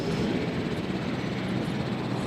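An ACU helicopter in the Jurassic World Evolution video game gives a steady, loud, broadband rotor and engine roar that holds without break throughout, with no voices over it.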